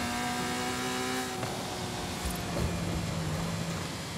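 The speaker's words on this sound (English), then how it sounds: "Oh, the turbos make that sound so cool." A turbocharged V12 Ferrari in Forza Horizon 5 roars steadily with a high turbo whine, the pitch dropping and shifting as it changes gear, loud and continuous.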